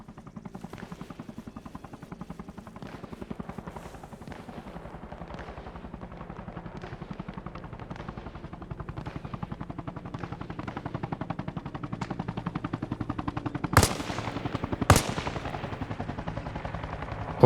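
Two sharp, loud sniper rifle shots crack out a second apart in the military shooter Arma Reforger, standing out over a constant rhythmic helicopter rotor thump with faint distant gunfire.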